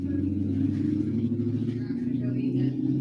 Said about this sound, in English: that car was loud.